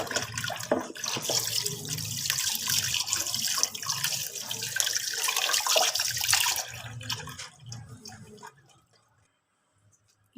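Tap water runs loudly as goat meat is rinsed in a sink, a continuous splashing stream that fades out near the end, leaving near silence.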